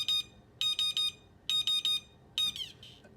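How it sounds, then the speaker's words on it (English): A buzzer on an interactive sculpture fidget contraption sounds in sharp, loud, high electronic beeps: one short beep, two quick triple bursts, then a final beep trailing into a warbling tone, with no talking. "let's push the buzzer"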